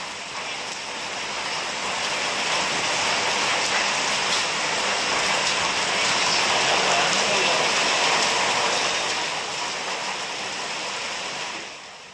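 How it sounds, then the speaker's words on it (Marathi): Heavy unseasonal rain pours steadily over Kolhapur, a dense, continuous hiss of downpour holding at an even level throughout with no distinct thunderclap standing out. "विजांच्या कडकडाटासह मुसळधार पावसानं कोल्हापूरला झोडपून काढलं."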